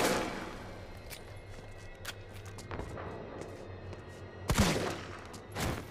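Scattered gunshots crack in Resident Evil 3, a few sharp reports spread out, then a louder cluster near the end, over a quiet backdrop.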